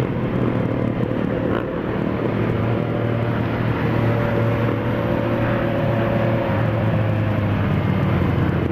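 A motorcycle engine on a group ride in Minas Gerais, Brazil, produces a loud, steady broadband roar that stays close for the whole stretch, with no talking.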